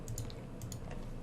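Several quick keystrokes tap on a computer keyboard in a short burst, close and fairly quiet with no voices.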